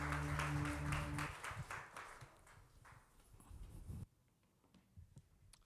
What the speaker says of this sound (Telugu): పాస్టర్ గారిని చప్పట్లతో ఆహ్వానించుకుందాం